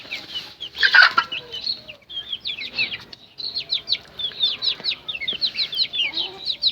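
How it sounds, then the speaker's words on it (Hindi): Sil chicks offered for sale chirp in rapid, high repeated peeps close by, a dense chorus that rises and falls, with a brief louder squawk near the start. "देखें कितने प्यारे ये चूजे हैं"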